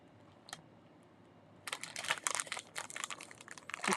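A packet of popping candy crinkles and crackles loudly up close as hands struggle to tear it open, the busy rustling beginning after a quiet moment and a single earlier click.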